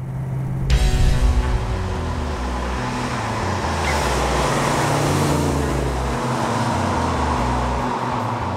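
A rare classic car with an old clunky four-speed top loader gearbox rumbles as its engine runs. A low, grumpy drone swells sharply at the start and then holds steady and loud.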